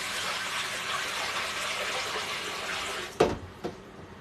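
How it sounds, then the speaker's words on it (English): Water poured off freshly rinsed greens into a kitchen sink, a steady loud rushing splash for about three seconds that cuts off, followed by two brief sharp splashes as the last water is tipped out. "I'm pouring the water off the greens."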